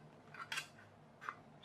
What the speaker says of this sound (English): I've got proper little tin snips here.